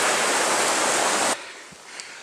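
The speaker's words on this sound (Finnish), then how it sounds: "Onhan se pieni joki, mutta on sillä kuitenkin hankala päästä yli." A small forest river rushes in a loud, steady broadband roar that cuts off abruptly partway through, leaving faint quiet outdoor ambience.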